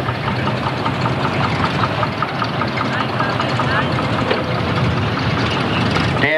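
A Ford Model A's four-cylinder 3.2 litre side-valve engine of about 40 hp runs at a tractor rally in Denmark, giving a loud, steady mechanical rumble and clatter throughout with voices over it.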